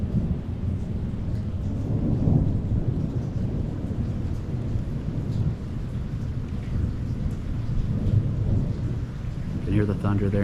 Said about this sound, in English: You can hear the thunder there in the distance.